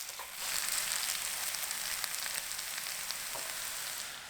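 Tomato paste and vegetables for borscht fry in a pan, giving a soft, steady sizzle with light crackles throughout as they are stirred, fading slightly at the end.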